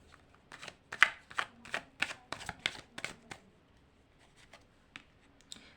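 A tarot deck is shuffled close by in a quiet room for a pick-a-pile reading, with a run of crisp, rhythmic card slaps and flicks that slow and soften toward the end.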